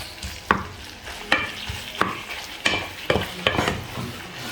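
Minced beef frying in its own fat without added oil: a constant close sizzle broken by repeated sharp scrapes of a utensil against the pan, roughly one every second, no speech.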